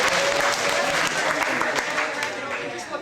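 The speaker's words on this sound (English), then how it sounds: "Another big round of applause for Cody." An audience at a high school senior all-nighter event claps steadily for Cody, a volunteer helper at a card trick, the applause dense and fairly loud throughout with a voice briefly cutting through.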